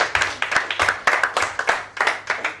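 Quiz show audience clapping for answers at a banking quiz semi-final, a steady patter of many hands in uneven bursts, moderately close and without talk.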